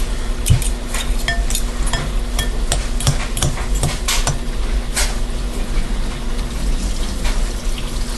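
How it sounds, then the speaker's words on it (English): Chunks of pressure-cooked pork loin being broken up in a pot, a run of sharp irregular knocks and clacks from a utensil over a wet, squelchy bed of cooking noise. "just get those big chunks of meat nice and broken up"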